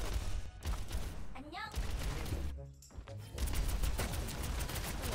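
Rapid bursts of gunfire and ability effects fill an Overwatch match on the Rialto map, dense overlapping shots with brief lulls and swooping effects, while someone talks over the action.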